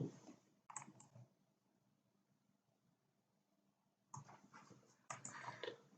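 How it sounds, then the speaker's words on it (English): Faint, close computer mouse clicks in short clusters, a few quick taps separated by quiet pauses, recorded at very low level against a soft background hiss. "so I'm clicking on the save."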